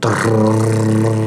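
A voice imitating the low, steady buzzing vibration of a Toshiba GR-AG48MDZ refrigerator's fan at night, a droning hum held for about a second.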